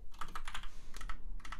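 Rapid typing on a computer keyboard, close and steady, with a dense run of key clicks and a brief pause midway.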